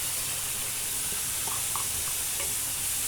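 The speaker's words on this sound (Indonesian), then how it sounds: "Kita tumis juga sampai daun bawangnya dan seledri ini layu" Spring onion and celery stir-fry in seasoning with a constant sizzling hiss close by, broken by faint clinks of a utensil.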